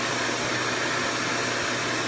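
A RevAir hair dryer running on natural hair, a loud, steady whooshing motor drone that holds constant throughout without pauses or speech.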